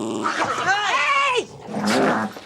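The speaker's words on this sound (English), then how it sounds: "This is the sound of happy dogs eating." Several dogs in a household pack eat treats together, giving close, busy chewing and mouthing noises mixed with low growls and whimpering vocal sounds throughout a short stretch.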